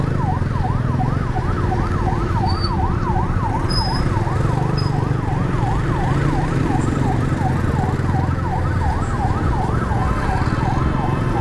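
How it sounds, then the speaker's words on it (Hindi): An ambulance siren wails continuously in a steady rising-and-falling pattern while the vehicle sits stuck in congested street traffic near a water pump, loud and close over a constant hum of engines and road noise. "एम्बुलेंस फंस गई है इस वक्त, उसे जाने का रास्ता नहीं मिल रहा है।"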